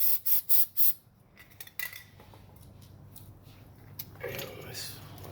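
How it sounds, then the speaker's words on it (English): Brake cleaner sprayed onto a brake rotor to strip rust preventative during a brake and rotor job, a few short hissing bursts up front, then quieter scraping and wiping, with a longer hiss near the end. "spray this with the brake cleaner to get all this rust preventative stuff off"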